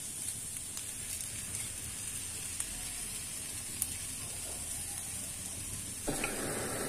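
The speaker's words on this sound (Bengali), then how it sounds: "এবার আস্তে আস্তে করে আমি নেড়ে চেড়ে নিব" Coconut filling with cane jaggery and sugar being stirred in a pan, a continuous soft sizzle and hiss with light scraping, and a louder burst of sizzling near the end.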